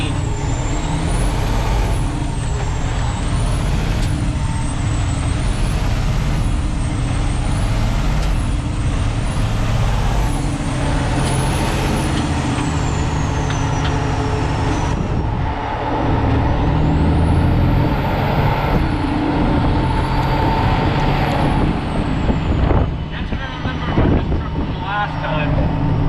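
An 18-speed truck engine revs up and drops again and again as the driver shifts up through the gears, with loud, close cab rumble and a rising-and-falling whine that repeats with each shift.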